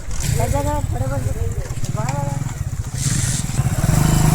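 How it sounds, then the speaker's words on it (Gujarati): A motorcycle engine fires up and runs with a throbbing, pulsing rumble, while a person talks over it. "હવે આ બાઇક ચાલુ કરે છે"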